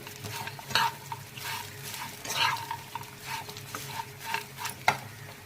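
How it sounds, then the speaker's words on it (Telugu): Ivy gourd peanut fry with chili powder and salt being stirred in a pan, a spoon scraping and clacking in repeated strokes over a low sizzle, close and fairly loud. "ఈ రెండు వేసుకొని ఈ మొత్తం మిశ్రమాన్ని బాగా కలుపుకోవాలి"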